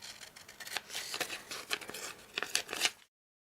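Scissors cutting window openings out of card, a quick run of crisp snips and crinkles that sound close and fairly soft, then silence.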